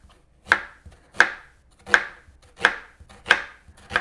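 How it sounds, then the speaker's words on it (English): Steady knife chops through an onion on a cutting board, six crisp, evenly spaced strikes about two-thirds of a second apart, close and clear with no talking. "I'm going to just cut it into half from pole to pole, and then I'm going to just cut it into thin slices"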